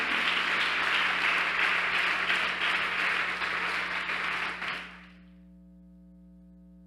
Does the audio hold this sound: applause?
yes